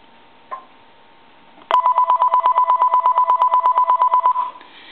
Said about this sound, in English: I'm also going to go ahead and ring the telephone.